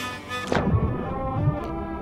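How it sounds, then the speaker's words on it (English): A ship's cannon fires with a deep boom and thud in the Sea of Thieves pirate game, followed by rumbling low impacts and a busy game mix of music and ambience. "I boosted myself out of the cannon."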